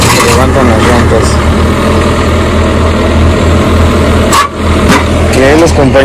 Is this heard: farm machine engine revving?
yes